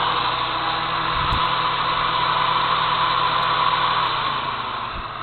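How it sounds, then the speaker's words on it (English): An engine-driven welder runs steadily at a junkyard, a continuous loud mechanical drone with a broad hiss and a low hum, holding level throughout with no voices. "That's a welder right here."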